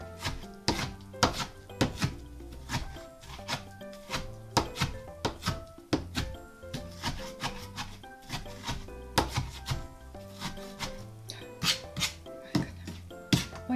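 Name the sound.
onion being finely chopped with a knife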